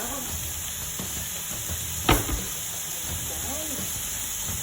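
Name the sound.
bacon frying in a hot pan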